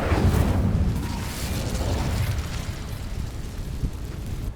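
A fire spell in the video game Hogwarts Legacy ignites dry vines, bursting into a loud, continuous roaring rush of flames that rumbles steadily and eases off slightly.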